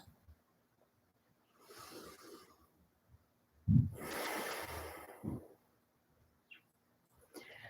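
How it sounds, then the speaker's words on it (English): Deep breathing in and out: a soft inhale followed by a louder, longer rushing exhale with a sharp onset, then quieter breaths trailing off, close and alone. "Big breath in and all the breath out"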